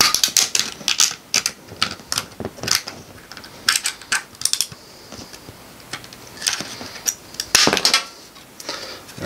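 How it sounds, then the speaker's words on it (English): Tin snips trimming the edges of a sheet-metal rocket stove, giving a run of sharp, close metallic clicks and snaps in irregular bursts with no talking. "we're going to make it so we just take off the edges. So we've got tin snips"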